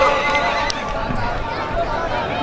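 Horses neigh and hooves clop at a tent pegging (neza bazi) fair in Punjab, buried under a loud announcer's voice and a steady crowd din throughout.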